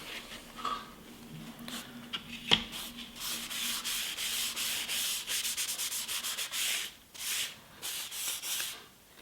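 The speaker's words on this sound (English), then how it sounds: "Using just a little bit of kitchen towel rather than getting a brush out. Give it a coat" A kitchen towel wipes wood finish onto oak for a knife rack, a close, steady rubbing and swishing in repeated strokes with brief pauses, nobody talking.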